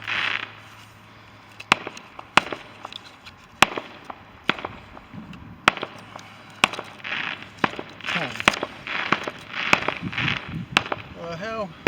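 Bonfire night fireworks bang and crackle in sharp, irregular bursts, some loud and close, with fizzing and popping between the reports, while people talk and react underneath.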